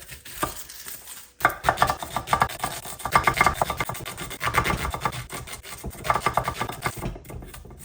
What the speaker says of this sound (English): Sorry, finely chop these two onions.